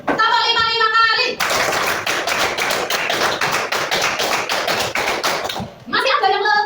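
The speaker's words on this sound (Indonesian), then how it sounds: "Kita tepuk 5 kali ya." A classroom of children claps in fast bursts, a long run of sharp, loud hand claps filling the middle stretch, with a teacher's voice speaking before and after.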